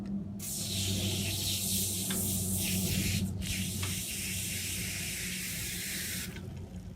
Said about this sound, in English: I'm going to take my degreaser and I'm going to spin the chain